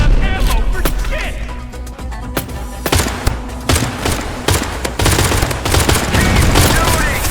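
Loud, continuous gunfire during a firefight in the video game Pioner: rapid automatic bursts and overlapping shots with booming impacts, while voices shout over the shooting.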